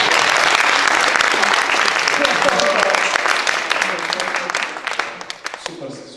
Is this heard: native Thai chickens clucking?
no